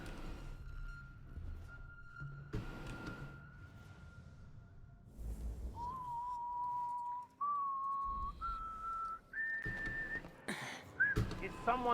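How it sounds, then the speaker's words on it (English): An in-game guard whistles a slow tune in Dishonored: Death of the Outsider, clear sustained notes that step upward in pitch, fairly faint amid soft footsteps and ambient rustles. "I heard someone whistling."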